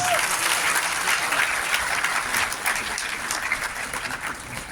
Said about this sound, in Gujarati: આ વિઝન માટે તાળીઓ થવી જોઈએ પ્લીઝ